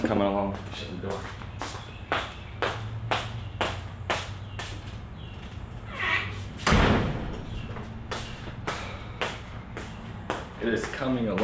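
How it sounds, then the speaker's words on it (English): A door shuts with one loud, sharp bang midway through, in a room being built into a posing room. Lighter rhythmic knocks and thumps come before and after, and people talk throughout. "Shut the door."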